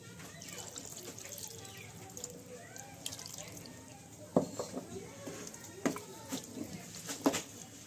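Water is poured into soybean curry in a pan, a soft, faint liquid trickle and splashing followed by several small clinks and bubbling, with quiet background noise and no talking.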